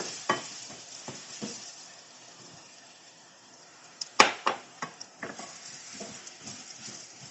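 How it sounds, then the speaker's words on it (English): Flour being stirred in a hot pot as the base of a pumpkin soup, with scraping utensil strokes and a few louder clinks against the metal over a quiet sizzle, no talking. "So we'll rub the base of the pot and lower the heat."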